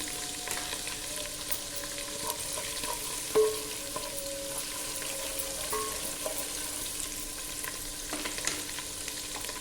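Finely chopped ginger and green chillies fry in hot oil in a pan, a steady soft sizzle with occasional stirring clicks and one brief clink, fairly quiet and close.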